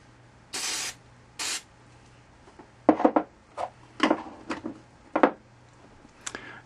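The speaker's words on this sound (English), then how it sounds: "And spray a little silicone in." Two short hissing bursts of silicone spray, close by, into an aluminum bottle for an alcohol stove, followed by a series of knocks and clunks of handling.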